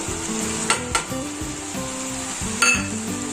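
Ginger garlic paste and masala frying in a pan for a coastal-style chicken gravy, a steady close sizzle with a few clinks of a spoon against the pan, no talking.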